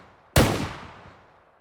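A single shotgun blast in the video game S&box: one sharp, loud report after a brief quiet moment, followed by a long decaying echo that trails away over about a second.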